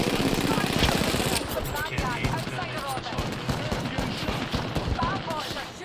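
Rapid gunfire from an Overwatch-style online shooter match, dense bursts of shots rattling continuously throughout, with players talking over the noise.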